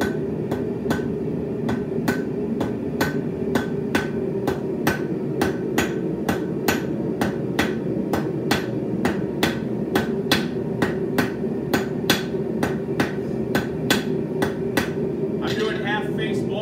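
Hammer drawing out a short taper on the tip of a steel hair pin at the edge of an anvil, a long run of evenly spaced sharp metallic strikes at a steady rhythm over a low background hum.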